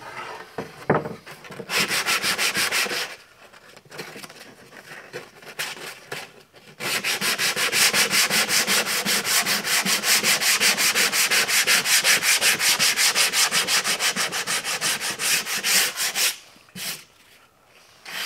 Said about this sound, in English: Keep the pressure light on your sandpaper when you're doing this